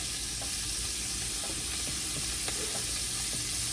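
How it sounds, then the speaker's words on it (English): Steady, loud sizzling of garlic butter frying in a pan, with faint clinks and small movements over the continuous hiss. "Oh yeah, sizzle baby, sizzle."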